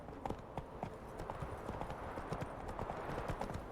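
Hooves of Roach, Geralt's horse in Witcher 3, thud rapidly and steadily at a gallop, fairly faint and slightly distant over a soft background hiss.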